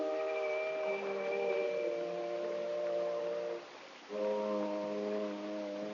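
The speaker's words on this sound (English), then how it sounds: "You want to ring the bell?" A front door bell sounds as a long, humming buzz, then stops briefly and sounds again. It is fairly faint and heard alone, with no talking.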